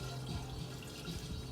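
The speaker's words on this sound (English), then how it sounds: "And then you just fill it back up" Treated, room-temperature fresh water is poured back into a betta fish tank, making a continuous, faint trickling and splashing with no voices.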